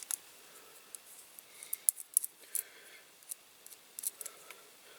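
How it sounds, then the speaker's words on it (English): Masking tape being handled and wrapped around the roller of a Corgi Major Toys Chipperfields crane truck during a restoration, giving soft scattered crackles and small tearing ticks at close range, with no talking. "I'm just going to shove a little bit of masking tape around that roller"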